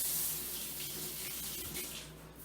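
Kitchen tap running while a lemon is rinsed under it, a steady hiss of water into the sink that eases off toward the end.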